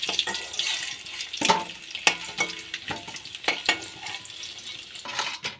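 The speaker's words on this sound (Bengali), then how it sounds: "দেখো ডিমগুলো কি সুন্দর ভাজা হয়েছে।" Fish roe frying in hot oil as a spatula stirs it, giving a steady close sizzle punctuated by several sharp scraping strokes against the pan.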